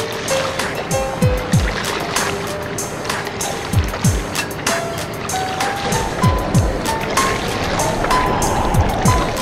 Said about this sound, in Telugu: ఎంత ప్రశాంతంగా ప్రయాణిస్తుందో పడవ